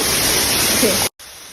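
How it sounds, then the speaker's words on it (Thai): Tham Soda waterfall in Nong Phok district, Roi Et, Thailand, gives a loud, steady roar of falling water close by, then cuts off abruptly and comes back a little quieter for the final moment. "นี่เป็นวิวน้ำตกถ้ำโสดาจังหวัดร้อยเอ็ดน้ำตกที่สวยที่สุดอีกแห่ งหนึ่งของจังหวัดร้อยเอ็ด"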